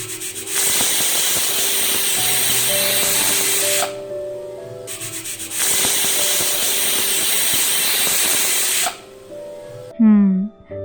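Two long, loud hissing blasts of steam from a pressure cooker cooking coconut rice, separated by a short pause, followed by a brief voice at the end.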